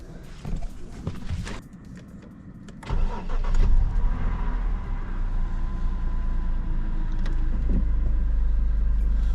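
A BMW E60 car engine, just after a spark plug change and already warmed up, cranks and starts, then settles into a loud, steady idle that continues to the end.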